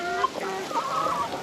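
Backyard chickens cluck and murmur while pecking at tossed garden leaves in a tropical Australian vegetable garden, several soft overlapping calls close by over a brief moment with no talking.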